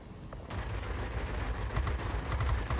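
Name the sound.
warplane machine guns firing in World of Warplanes video game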